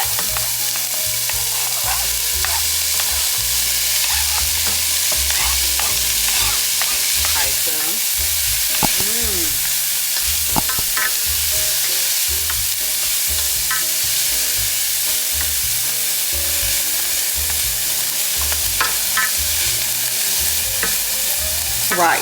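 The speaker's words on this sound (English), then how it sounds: "right now we're going to add in the onion and green pepper to my skillet" Onion and green pepper sautéing in a very hot skillet for homemade spaghetti, a steady close sizzle with occasional stirring scrapes and clicks throughout, no voices.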